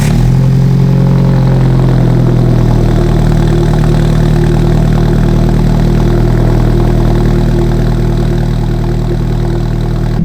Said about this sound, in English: Let's get a better look at the exhaust right now with the cold start.